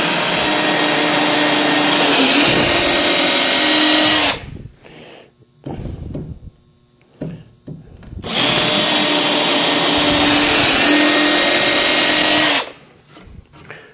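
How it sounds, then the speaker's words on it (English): Power drill boring pilot holes in wooden lumber, two loud sustained whirring bursts of about four seconds each, separated by quieter handling noises and clicks. "now get these last 4 pilot holes, and we'll screw this thing together"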